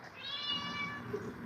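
A cat meows repeatedly in a drawn-out, crying call for food, close and fairly loud indoors, with a faint household background behind it.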